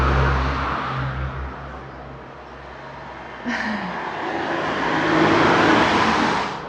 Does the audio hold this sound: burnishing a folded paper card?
no